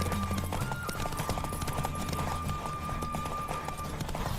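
Galloping horse hooves from Witcher 3 beat in a fast, even clip-clop rhythm throughout, close and steady over a low musical bed.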